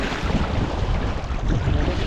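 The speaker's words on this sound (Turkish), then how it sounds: "Evet bugün dalgalı, rüzgarlı." Strong wind gusts and choppy waves slap around a small fishing boat out on open water during pike fishing, a loud, continuous rushing roar buffeting the microphone with no voices.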